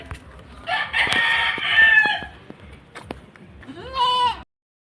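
Several high, wavering goat bleats, fairly close, with a final drawn-out cry near the end; no talking.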